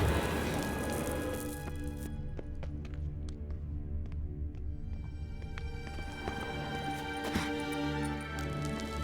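A horse gallops in The Witcher 3, with quick, steady hoofbeats running throughout over a continuous musical and ambient game backdrop.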